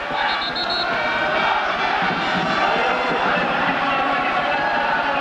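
A stadium crowd of about 6,000–7,000 at a football match roaring and cheering in a big open space, a sustained wash of many voices that stays loud throughout.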